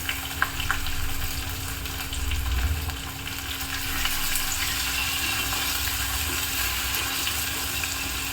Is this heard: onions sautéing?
yes